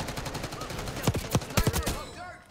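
Rapid bursts of gunfire from the video game Call of Duty: Black Ops 6 crack out in a clustered volley over a steady in-game background, ending in quieter ambience.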